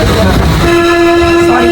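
Train travelling between Aluva and Ernakulam in Kerala, with rumbling carriage noise followed by a long, steady, loud horn-like tone that holds to the end, with voices faintly mixed in.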